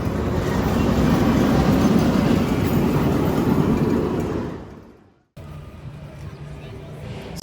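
The Steel Force roller coaster train roars past on its steel track, a loud rumbling rush that fades over several seconds and cuts to a quieter ambient hum, with voices faintly present.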